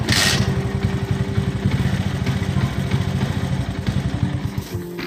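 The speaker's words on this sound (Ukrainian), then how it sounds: "Щось воно даю газу, а він бухне." Alpha 49.9 cc moped engine running close and loud, a steady low pulsing idle with uneven sputtering beats and a brief burst of revving at the start.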